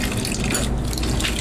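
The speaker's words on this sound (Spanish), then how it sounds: "por el tubo superior de agua caliente empieza ya a rebosar agua" Water overflows and splashes from the upper hot-water pipe of an electric water heater during descaling maintenance, a loud, steady close-up rush and trickle with no pause.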